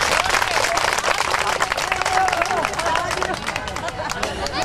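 A crowd at a community workers' union meeting in Udaipur claps loudly and continuously, dense and steady throughout, with a murmur of voices underneath.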